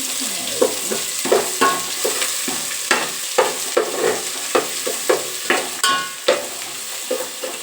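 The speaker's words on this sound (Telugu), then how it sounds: "సరుకులు లైట్గా ఫ్రై చేసుకోవాలి కొద్దిగా అల్లం వెల్లుల్లితో పేస్ట్ చేసుకోవాలి" Whole spices fry with ginger garlic paste for prawn biryani, a continuous sizzle broken by regular scraping strokes of a spatula against the pan, close and fairly loud.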